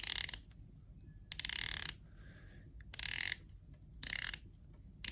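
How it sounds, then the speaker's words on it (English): The bezel of a Hamilton Pan Europ watch is turned in four short bursts of crisp, fast, close ratcheting clicks separated by quiet pauses. "Take a listen to the bezel."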